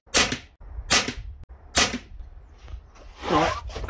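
Air rifle shots fired at a target from a high-end air rifle with a scope on a budget picatinny riser rail, three sharp close cracks about a second apart, followed by fainter clicks and rustling handling noise.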